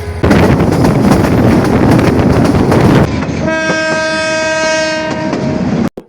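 A Dinajpur Commuter passenger train roars past close by with rumbling wheels and wind noise, then a long, loud multi-tone horn blast sounds before cutting off abruptly.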